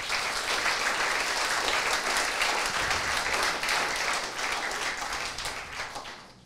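Loud, dense applause from a crowd at a church bonfire night anniversary gathering, continuous clapping holding strong throughout before tapering off in the final second.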